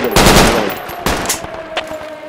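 Close, loud machine gun fire in the tactical shooter Project Reality, heard as a few sharp bursts and single shots spaced across the moment, with no talking.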